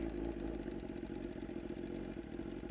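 A motorcycle engine idles quietly at a distance in a soft, even chugging patter with faint clattering, holding steady throughout.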